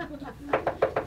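A door is knocked on with four quick, sharp raps in a rapid even rhythm, close and clear, following a brief stretch of muffled background sound.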